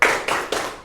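A classroom group claps a short rhythmic 'tepuk salut' pattern, three crisp, close bursts of hand claps in quick succession, with no talking over them.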